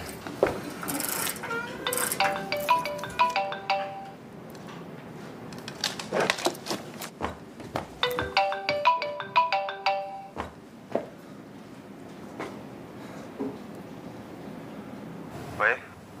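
A phone ringtone plays two melodic bursts of repeating electronic tones, moderately loud in a domestic room, with brief clatters and knocks around them and a faint voice near the end.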